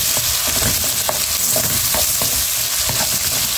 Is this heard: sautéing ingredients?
yes